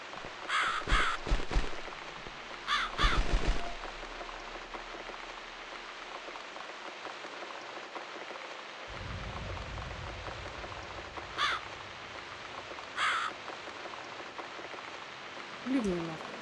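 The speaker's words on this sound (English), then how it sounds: "damn bird again. Go away!" A crow caws from the video game The Cat Lady in several harsh calls spread across the stretch, over steady rain on a surface.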